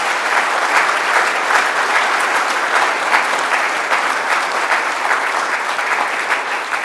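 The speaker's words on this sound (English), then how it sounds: "May I ask you to join in a round of applause for our 4 laureates." An awards-ceremony audience gives a sustained round of applause for the laureates, dense, even clapping from a large crowd that holds steady throughout without pause.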